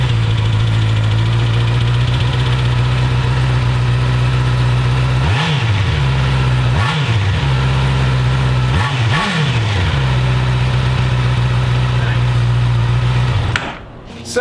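Honda CB650R motorcycle with its stock exhaust idling steadily and loud up close, with several quick throttle blips partway through before the engine cuts off at the end.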